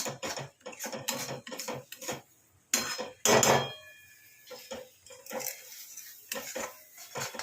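Metal spatula scraping and stirring fish jhura (shredded fish) against the sides of a kadai, repeated close rasping scrapes and clinks in irregular bursts with short quiet gaps, no talking.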